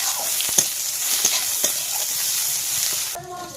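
Chopped onion and green chili fry in a hot pan of oil with mustard seed and spices, a steady close sizzle and hiss with small crackles; the frying cuts off near the end.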